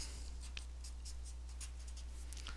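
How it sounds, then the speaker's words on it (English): A pen moves across paper in short, quiet, scratchy strokes while working a geometry problem, over a steady low room hum. "So I'm just going to write that down."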